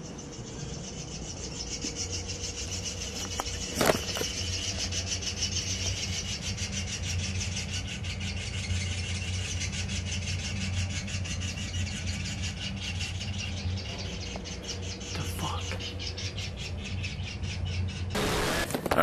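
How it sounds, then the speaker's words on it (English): Rough, continuous rubbing and scratching, like birds scrabbling inside a house chimney, runs steadily throughout with a low hum beneath and a few sharper knocks and squawk-like bursts. "I don't know how birds are in our chimney."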